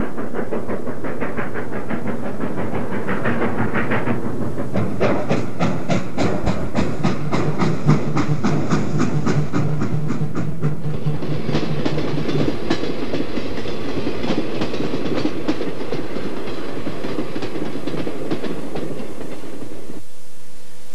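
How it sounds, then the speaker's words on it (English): Erie K5 Pacific steam locomotive hauling a commuter train at Waldwick, New Jersey, loud and close, with a continuous rumble, rhythmic rail clatter and hissing as the cars roll past. "Another K5 Pacific on a commuter at Waldwick, New Jersey."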